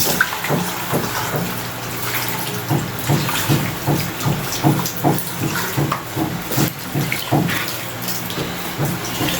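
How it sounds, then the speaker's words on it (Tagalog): Water poured into a cooking pot for boiling cassava, a steady splashing stream with irregular rhythmic gurgles, close and fairly loud, with no talk over it. "lagyan na natin ng tubig yan"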